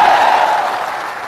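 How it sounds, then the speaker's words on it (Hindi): Audience at a Jan Suraaj political gathering in Bapu Sabhagar hall in Bihar claps loudly, a dense wash of applause that starts strong and slowly thins over about a second and a half. "आप बजाइए ताली।"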